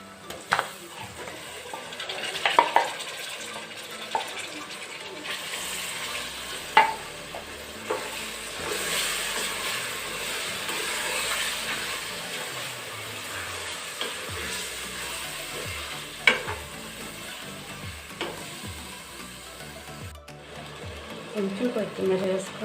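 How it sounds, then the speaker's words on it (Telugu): Jackfruit pieces fry and are stirred in a pot for biryani, with a soft ongoing sizzle and intermittent clattering stirs. A person talks over it. "పనసకాయ ముక్కలు వేసేస్తున్నాను."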